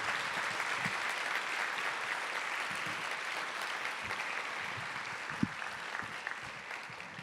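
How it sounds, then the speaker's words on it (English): An audience at a memorial lecture gives a sustained round of applause for Noura Erakat, a soft, distant wash of many hands clapping that continues evenly for several seconds, with a few sharper knocks near the end. "Please, a round of applause for Noura"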